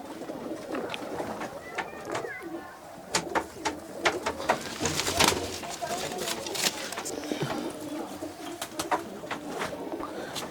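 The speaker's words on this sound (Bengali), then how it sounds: "এই হচ্ছে আমার দাসু লাইনের হাঁড়িগুটি পায়রা" Pigeons coo repeatedly at a pigeon sale in Kolkata, with soft overlapping calls close by and people talking over the birds.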